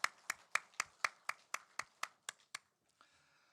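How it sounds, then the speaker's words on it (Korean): At a Korean church's Easter Sunday service, the congregation claps for the choir in about eleven sharp, evenly spaced unison beats, then falls quiet. "우리 목자 성가대 위해서 다시 한번 축복의 박수 해줍시다."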